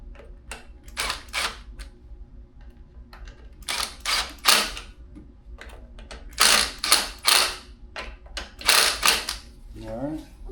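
Bolts being tightened on a cheap Chinese lawn mower engine, a run of bursts of metallic ratcheting clicks in close, repeated clusters, with a low steady hum underneath.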